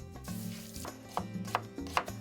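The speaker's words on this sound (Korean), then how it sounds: "칼질하는 솜씨가 딱 봐도 보통이 아닌데요." Knife chopping food on a cutting board as a man prepares a meal on an island, a few distinct close taps spaced unevenly over a low hum of background noise.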